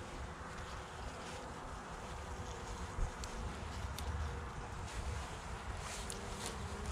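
Honeybees hum steadily and close by while a beehive is opened and inspected for bridge comb, a continuous buzzing swarm with faint wind around it and no talking.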